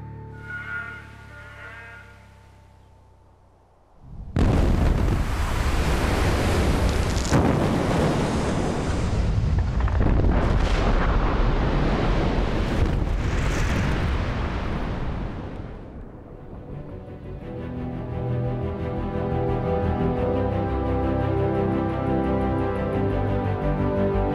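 Explosive blasts go off in a huge open-pit mine. A sudden loud boom erupts, followed by several sharp cracks and a rolling rumble that fades slowly before music comes in.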